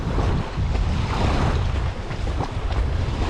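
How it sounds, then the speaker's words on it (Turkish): Small waves lap and churn on open water just after rain near a remote forest fishing spot, forming a continuous close washing roar mixed with heavy wind buffeting the microphone, with no voices. "gördüğünüz gibi dalga da başladı"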